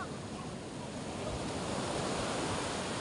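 Ocean surf rolling in steadily along a shore where lobster fishermen work, a dense continuous roar of breaking waves, close and loud with no talk over it.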